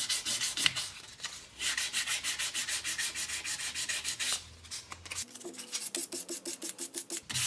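Sandpaper rubs against the face of a wooden jewelry piece spinning on a wood lathe, giving rapid rhythmic rasping strokes that come in bursts with a short pause, close and clear, with no talking.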